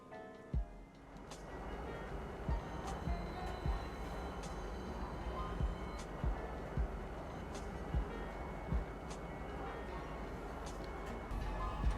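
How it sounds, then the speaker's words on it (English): A train rumbles into a station platform in the video game Star Citizen, a steady rolling drone with periodic clacks, and a voice comes through faintly underneath. "away from the platform edge when train is approaching"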